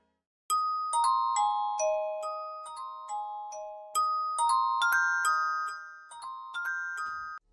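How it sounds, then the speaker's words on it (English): Feel 1 bells from the Purity plugin play a bright, simple melodic pattern in a pluggnb beat, each struck note ringing and decaying cleanly and loud, with no voices. "next thing is the bells, and these are the same Feel 1 bells from Purity in the bell and perk category"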